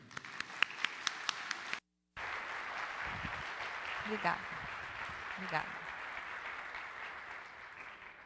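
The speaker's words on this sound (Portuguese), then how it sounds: "com uma calorosa salva de palmas" Audience applause, close, crisp claps from a small group that break off after a brief pause, then softer scattered clapping continues while someone speaks.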